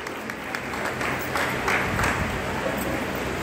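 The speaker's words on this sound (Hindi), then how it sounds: "एकदम जोरदार तालियां तो बजती ही रहनी चाहिए" Steady applause from a large crowd at an International Women's Day dance program, continuous and fairly loud throughout with no pauses, dense clapping filling the whole stretch.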